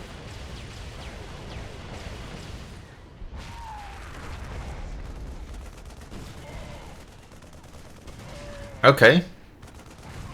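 A Thor unit's barrage cannon in StarCraft II lets off a short, loud cluster of blasts near the end, over quieter game sounds and someone talking.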